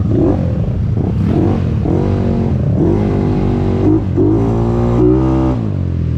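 A motorcycle engine revs repeatedly close by, each burst rising in pitch and falling back, with loud mechanical clatter throughout.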